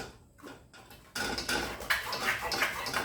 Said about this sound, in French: Je vais les passer comme ça, les gros morceaux vont rester dans le passoire.